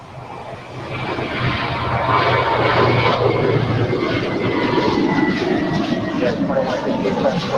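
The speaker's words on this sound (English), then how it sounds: "This one on our way to JFK. Flight 118, now rolling down 25 right." American Airlines A321, Flight 118, taking off on runway 25 right at LAX: a loud, steady roar of jet engines builds within the first second and holds through the clip, with a low rumble underneath.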